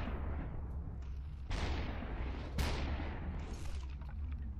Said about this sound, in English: They're all shooting at me.